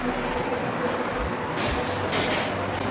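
Small food-delivery train running on tracks through a Prague rail-themed restaurant, its continuous low rumble and faint squeaks carrying under a murmur of diners, with a few brief higher whirs toward the end.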